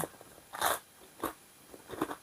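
Crispy pork crackling crunches in three distinct, close bites spaced roughly evenly apart, each a brittle crack followed by a short chew, in a quiet room with no talking.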